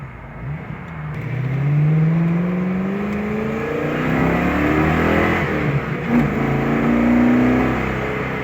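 A 1993 Mustang Cobra replica engine, which is running rough and missing, revs up in several rising pulls. The tone is loud, close and throaty, climbing and easing between rises.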